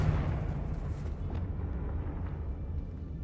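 A blasting spell goes off in a wizard video game as a deep, rumbling blast at the start that fades into a long low roar, with faint crackles, no talking.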